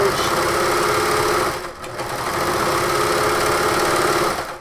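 A serger runs steadily along the side seam of a Bonita Rosa's top, its continuous motor hum and stitching whir dipping briefly near the middle before resuming, close and fairly loud.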